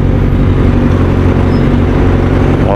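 Heavy, loud road traffic rumbles near a market, with a close engine idling in congested stop-and-go conditions and other vehicles droning nearby, plus a short rising whine at the end.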